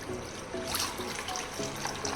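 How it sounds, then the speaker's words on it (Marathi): Water trickles and splashes briefly into a pot of dal, close by, with a soft, uneven gurgle. "इथे पण पाणी टाकू आपण"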